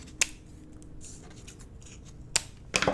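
Scissors trimming paper leaves for a handmade vintage Christmas card: a few sharp, close snips, one early, then a pair near the end, over quiet room noise.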